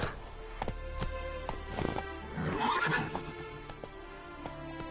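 Roach, the horse from The Witcher 3, lets out a loud neigh midway while hooves clop at a walking pace around it, close by over soft game music.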